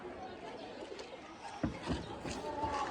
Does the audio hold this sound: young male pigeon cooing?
yes